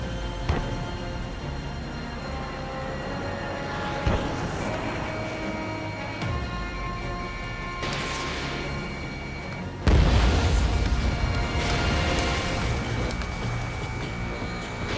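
A missile launches and explodes in the flight combat game Ace Combat 7, heard as scattered booms and bursts over a steady engine-like drone, building to one heavier, louder blast partway through.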